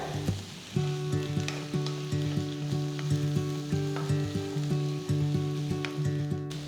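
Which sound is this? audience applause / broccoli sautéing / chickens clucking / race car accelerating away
broccoli sautéing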